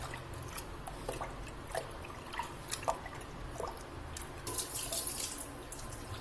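Water runs from a tap as soaked lentils are rinsed in a bowl, a faint, steady stream with small splashes and drips, heard alone without talk.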